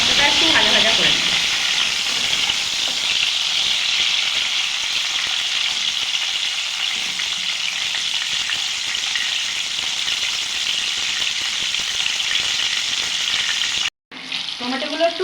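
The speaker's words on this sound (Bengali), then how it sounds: "টমেটোটা একটু ভাজা ভাজা করে নিই।" Chopped tomatoes fry in hot oil with a loud, steady sizzle that holds for about fourteen seconds, then cuts off abruptly before a brief return.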